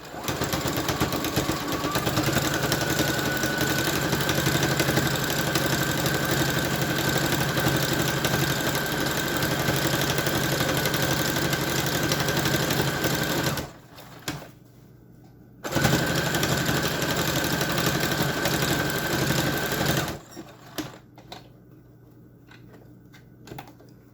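A serger sewing machine stitches bias tape onto the top of a fabric bag, running in a loud, steady, rapid mechanical whir for several long stretches, stopping briefly between runs and then falling quiet at the end.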